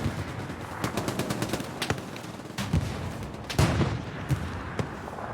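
Gunfire and tank fire in a war video game: rapid machine-gun bursts and single shots crack close and loud, broken by heavier booming blasts, with bursts stopping and restarting across the stretch.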